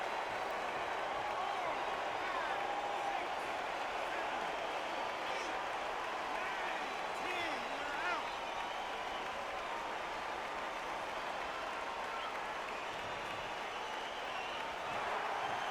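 Video game crowd in Undisputed roaring after a boxing knockout of Tyson Fury, a steady broad wash of cheering and applause sustained evenly throughout, with murmured voices blended into the din.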